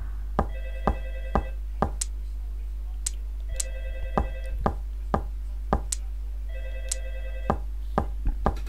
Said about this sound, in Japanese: ちょっと電話がうるさいな。